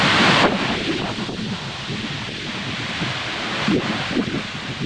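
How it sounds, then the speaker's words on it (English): Strong wind buffets the microphone in loud, continuous gusts, roaring and rustling outdoors with surges near the start and again toward the end, no voices present. "The wind blows like crazy, man."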